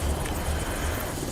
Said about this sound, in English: With no time to wait for the helicopter to shut down